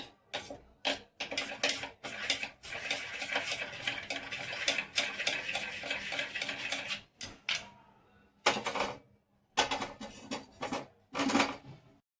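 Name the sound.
mixing dry masala with oil onto paneer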